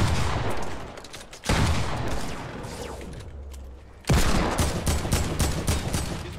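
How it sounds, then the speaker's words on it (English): Gunfire in Fortnite comes in loud, close bursts of rapid shots, with two abrupt volleys separated by a short lull and no talk. "I'm getting shot by someone else"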